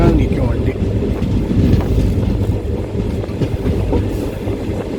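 Mannargudi to Mayiladuthurai unreserved express train running on its first day, a loud rumble with rhythmic wheel clatter recorded from on board, wind buffeting the microphone and faint voices in the background.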